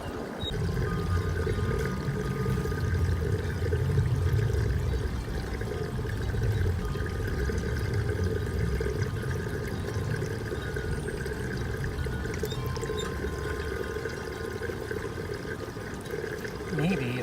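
Water drains out of an aquaponics deep water culture bed as a steady, continuous gurgling rush of liquid that holds a constant level throughout, with no clear talk over it.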